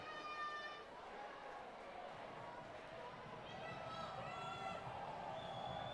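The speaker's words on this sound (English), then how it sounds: "here's where the crowd's starting to get loud" Crowd noise from the stands at a varsity high school football game, Eastlake at Mt. Si, swelling into a steady roar, heard distant and broad under a play-by-play announcer's voice.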